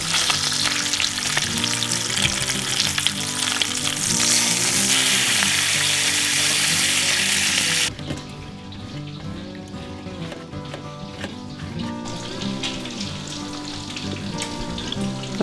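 Bacon sizzles and spatters in a frying pan with a steady, crackling hiss. It is louder in the first half, then drops to a quieter fizz, over a low tonal hum.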